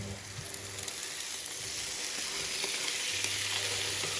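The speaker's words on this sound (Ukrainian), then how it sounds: "Смажимо приблизно 3 хвилини та додаємо назад печінку" A pan sizzles steadily as apples and chicken liver fry, a constant hissing crackle up close with no talking.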